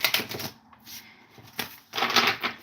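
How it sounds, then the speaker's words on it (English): A deck of cards being shuffled up close in quick riffling bursts, a short run, a pause, a brief flick, then another crisp burst, with no talking. "we're going to shuffle the cards"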